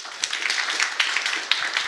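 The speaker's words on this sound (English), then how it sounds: "Please give Professor Miller another round of applause." Applause for a keynote speaker at a binary analysis research workshop: steady, dense clapping from an indoor audience, uniform across the short burst with no voices.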